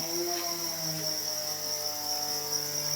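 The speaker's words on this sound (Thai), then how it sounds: "นี่คือจิ้งหรีดที่เลี้ยงไว้ใน หลังบ้าน" Crickets farmed behind a house chirp in a continuous, even shrill drone with a few lower tonal sounds beneath, steady and moderately quiet with no talk.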